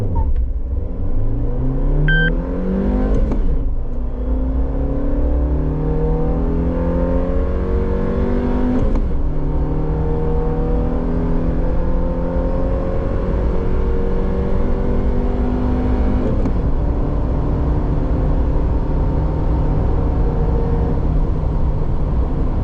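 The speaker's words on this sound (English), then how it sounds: "this time I'll rev it right up from launch." A 2024 Suzuki Jimny XL five-door accelerates hard from a standing launch, its engine revving up loudly through the gears. The pitch climbs, then drops at each of three shifts before rising again, with steady road roar underneath and no talking.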